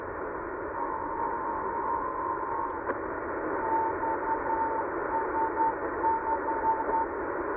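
Faint Morse code beeps, short and long tones in a rhythmic pattern, buried in the steady hiss of shortwave radio static in the 8000-9000 kHz band.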